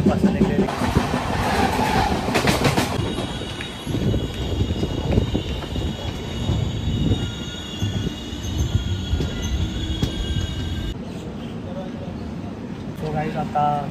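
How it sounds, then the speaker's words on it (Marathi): A passenger train pulls away from Chinchwad station, its wheels rumbling and clattering close by with a high squeal running through most of the clip, loud and continuous, while someone talks over it. "आता ट्रेन तर निघलेली आहे"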